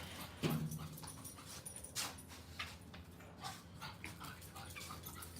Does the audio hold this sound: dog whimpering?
yes